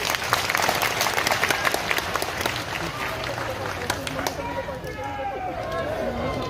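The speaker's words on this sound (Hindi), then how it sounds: "एक बार ताली बजाओ" A crowd at a Bageshwar Dham religious gathering in Gadha, Madhya Pradesh claps continuously with sharp, dense hand claps, thinning slightly toward the end as a voice comes in.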